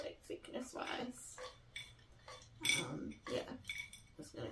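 Paper prompt slips rattle and clink inside a TBR jar as it is shaken in several uneven bursts, close and moderately loud, with a light voice murmuring at times underneath.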